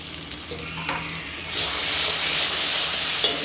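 Spices with turmeric frying in a pan for a meat curry sizzle and hiss steadily at close range while a utensil scrapes and stirs through them, the sizzle growing brighter toward the end.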